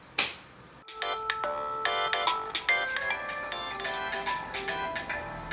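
A mobile phone alarm ringtone plays a bright, chiming melodic pattern of repeated electronic tones. It follows a short swishing sound and continues steadily at moderate loudness.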